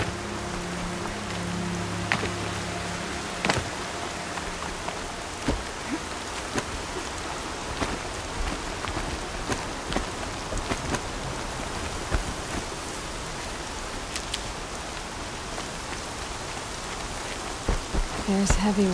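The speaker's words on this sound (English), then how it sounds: "Air's heavy with rain." Steady rainfall in the Horizon Zero Dawn game world, a dense, even hiss of drops on surfaces with scattered louder splatters, constant across the whole stretch, with faint low ambient tones early on.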